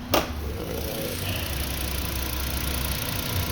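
A 2007 VW Beetle engine idling in cold, wet weather, a quiet low steady hum with faint vibration that stays even throughout, after a brief sharp sound at the start.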